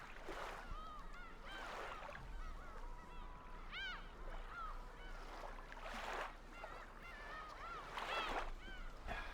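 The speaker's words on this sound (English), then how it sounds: "Let me hear those seagulls crying." Seagulls crying in a played recording: repeated high, wavering cries rise and fall over a steady background wash, with several calls spaced a second or two apart.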